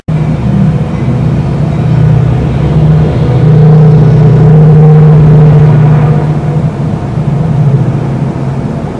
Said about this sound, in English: It's rush hour, so there's a lot of trains going by my house right now.